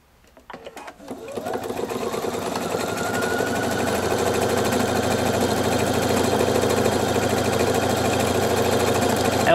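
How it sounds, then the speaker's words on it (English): A Pfaff Performance 5.0 sewing machine starts up and runs fast through decorative stitches, a loud, close, steady mechanical whir and rapid needle chatter that builds within a second and holds evenly to the end. "when it does its decorative stitches, it sews really fast"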